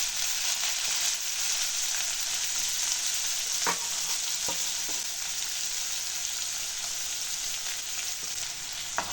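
Onions with urad dal and chana dal sautéing in an oiled pan for beetroot masala rice give a steady, close sizzle, punctuated by a few light stirring scrapes, with no voices.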